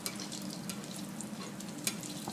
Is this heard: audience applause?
no